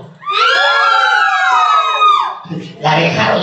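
An audience at a clown show lets out a high, wavering collective scream that lasts about two seconds, loud and near, before a brief burst of crowd noise follows.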